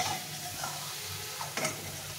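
Potatoes fry in oil in a pan while being stirred for a raw banana curry, a quiet continuous sizzle with light scraping strokes and a brief clatter near the end.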